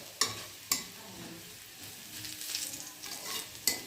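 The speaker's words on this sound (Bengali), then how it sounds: "এখন রসুনটা ভালো করে ভাজা ভাজা হয়ে গেছে" Garlic frying in a pan for a greens dish, a steady close sizzle with soft stirring scrapes and a few sharp spatula knocks against the pan.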